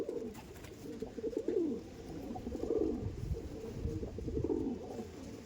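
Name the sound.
pigeons cooing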